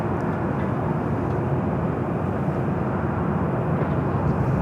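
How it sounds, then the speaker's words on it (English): An ANA airliner lining up for takeoff at LAX, bound for Tokyo Narita, gives a steady distant jet engine roar, even and unbroken, with no voices. "ANA lining up for a takeoff back to Tokyo Narita."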